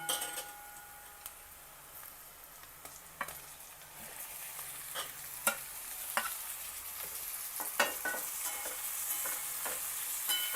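Stuffed bitter gourds fry with onions in a pan, giving a steady soft sizzle. Sharp clinks and scrapes of a utensil against the pan break in at scattered moments, with no voices.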